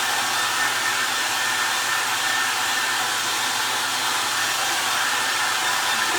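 A hair dryer blows steadily and loudly on glue on a Christmas angel craft jar, a constant close-up whoosh with no break for the whole stretch.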